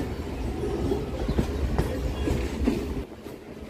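A train runs on the Kankurgachi chord line off the Sealdah main line with a steady rumble and rhythmic clickety-clack of wheels over rail joints, close and continuous, with faint squeals.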